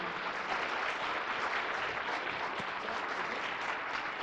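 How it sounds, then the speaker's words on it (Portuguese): Steady audience applause fills a conference session on game and app monetization, dense and sustained throughout with no voices over it. "Salva de palmas aí"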